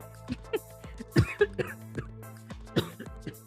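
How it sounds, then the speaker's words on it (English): A person coughs several times close into a microphone during a sports talk stream, short sharp bursts spread across a few seconds, with some throat clearing and no speech between them. "sorry, I'm coughing on the mic"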